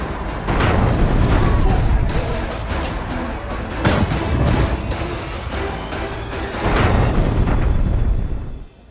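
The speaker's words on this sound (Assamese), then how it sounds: "তালিবানীৰ আফগানিস্তানত ইছলামিক ষ্টেটৰ বিস্ফোৰণ।" Suicide bomb explosions at Kabul airport in news footage: a loud, continuous roar of blasts with several sharper booming surges, ending abruptly.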